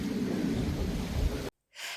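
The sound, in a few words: rain starting to fall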